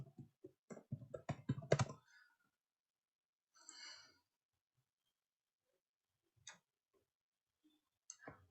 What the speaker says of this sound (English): So I will type my email ID and password.